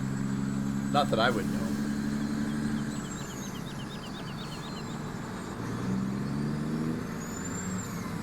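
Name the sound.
truck driving in video game Farming Simulator 2017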